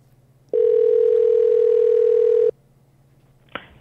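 A telephone gives a loud, steady single-pitch tone for about two seconds while a call is placed, then cuts off, followed by a faint click and a low background hum.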